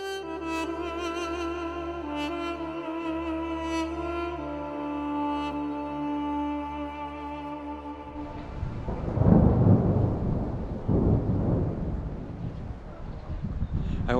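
A thunderstorm closes in near ancient temples in Armenia. After a long stretch of sustained tonal music, loud rumbling thunder and the hiss of rain break in, swelling and surging through the second half with no voices.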